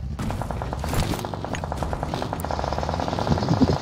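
Rapid gunfire in a shooter video game, a dense stream of close, loud shots chattering steadily throughout with no let-up.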